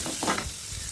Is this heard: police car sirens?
no